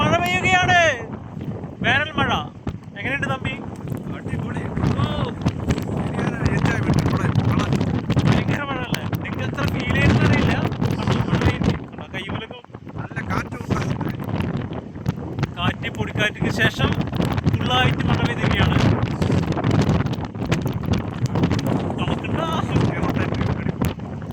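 Strong wind roars and buffets the microphone nonstop during rain in the desert at Al Madam, a loud low rush with voices faintly mixed in underneath.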